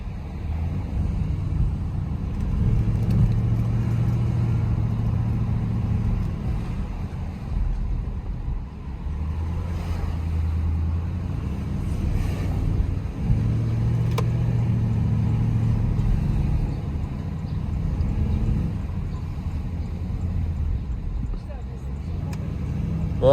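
A Porsche Cayenne 4.2 V8 drives along with a low engine drone that rises and falls as the transmission shifts through gears, with people talking inside the cabin over the steady rumble.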